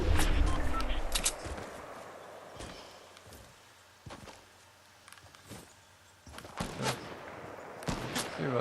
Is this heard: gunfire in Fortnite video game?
yes